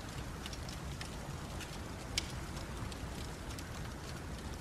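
Steady rain mixed with snow patters down continuously, a soft even hiss with scattered drips, faint and distant.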